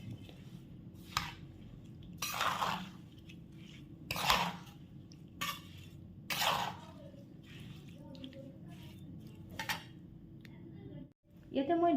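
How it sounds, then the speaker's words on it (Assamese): A spoon stirs carrot and radish pickle with spices in a bowl, giving intermittent scraping, clinking bursts against the dish, close and moderately loud, separated by quieter pauses. "এতিয়া মই এইখিনি ভালদৰে লৰাই দিম।"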